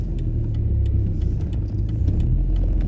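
A car's engine rumbles low and steady as it pulls away during a driving-test practice run, with a continuous close, deep drone and no talking over it.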